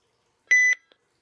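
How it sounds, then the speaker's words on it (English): A single electronic beep tone from a RadioShack 12-259 weather radio clock lasting about a quarter second, followed by a faint short blip, in an otherwise quiet room. "Do you ever notice that when it beeps, it also sort of turns on the weather radio"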